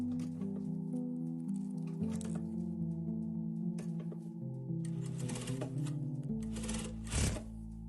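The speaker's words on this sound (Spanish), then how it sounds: "entonces vamos a comenzar a coser" A sewing machine stitching fabric, its needle running in a steady fast patter with motor hum, pausing and restarting a few times, close and fairly quiet with no talk.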